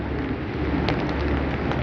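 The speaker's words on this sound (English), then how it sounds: "It is still raining." Freezing rain falls outdoors at about 31 degrees with ice building on trees, a steady dense patter heard close with faint traffic hiss behind it.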